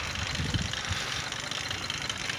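An 80cc motorcycle engine idles steadily and close by, a continuous even rumble with no revving or voices.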